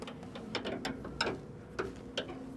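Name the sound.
tightening back bolt on S700 combine concave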